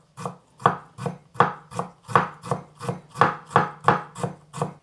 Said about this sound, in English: I cut the julienne.